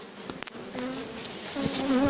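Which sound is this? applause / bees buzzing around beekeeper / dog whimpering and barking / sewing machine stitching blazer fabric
bees buzzing around beekeeper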